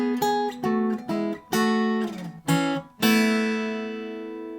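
Guitar picks out the opening line of a song, a short run of plucked notes and chords in uneven phrases, ending on one long ringing strum that fades, close and alone with no talk.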